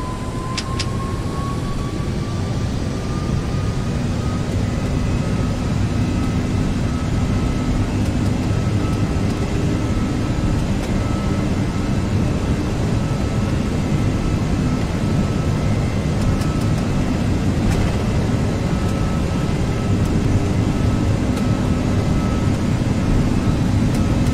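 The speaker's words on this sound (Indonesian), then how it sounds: "Ya ini kita tunggu engine-nya stabilize. Oke, terus kita set ke take off thrust ya" Engines of a Garuda Indonesia Airbus A330-300 in a flight simulator spooling up to take-off thrust, a loud continuous roar with a rising whine that climbs and then holds steady, alone without talk.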